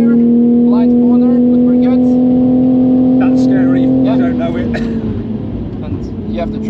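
A car accelerating hard on the Nürburgring, heard from inside as a loud, sustained engine drone that holds a steady pitch, then shifts and eases near the end, with people talking over it.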